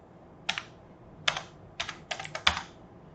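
Keystrokes on a computer keyboard, tapped out in a few short clustered bursts of crisp clicks over about three seconds, close and moderately quiet with no talking.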